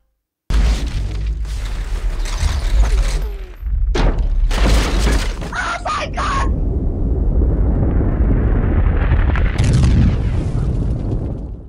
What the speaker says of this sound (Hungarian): ezért Cobb felrobbantja a várost